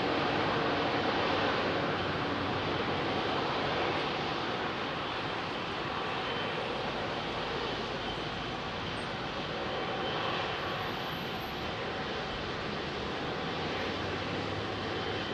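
Airbus A380 jet engines at London Heathrow produce a sustained, fairly loud broadband roar that stays even and slowly eases toward the end, with no voices.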